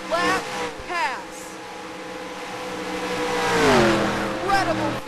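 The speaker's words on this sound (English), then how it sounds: "Garrett Jones on the outside is going to power around him and win the Coca-Cola 600" Stock race cars roar across the Charlotte finish line during the Coca-Cola 600 in a racing video game, engines revving and swelling loudly beneath excited race commentary.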